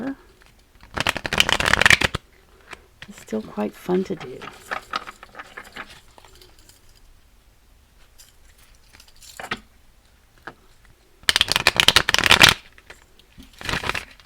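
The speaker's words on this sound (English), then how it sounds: "This deck isn't very broken in, and it's real thick, so it's a little bit harder to shuffle than others." A thick, stiff new tarot deck is riffled in two loud, crisp bursts at the start and end, with quieter card handling and a soft voice speaking between them.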